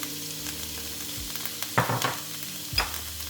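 Chopped onion and bell pepper sizzle in a little oil in a pan, with a steady frying hiss broken by a few louder stirring scrapes and bursts.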